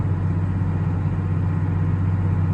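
A farm tractor engine runs at a steady idle in a barn during feed mixing, a constant low, close rumbling hum throughout with no speech.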